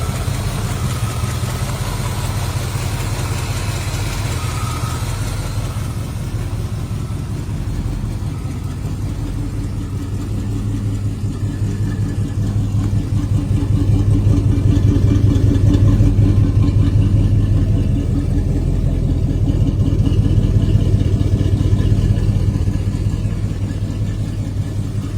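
A 1985 Ford F-150 pickup truck engine idles with a steady low rumble, then revs up in swelling, sustained bursts before settling again, loud and close with no talking.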